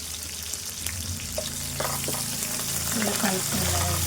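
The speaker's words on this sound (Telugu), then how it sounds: "పచ్చిమిర్చి వేసుకున్నాము ఒక ఆరు పచ్చిమిర్చి కడిగేసిన" Six washed green chillies frying in a pan for a chana dal, ridge gourd and tomato curry, giving a steady sizzle with faint stirring and clinks throughout.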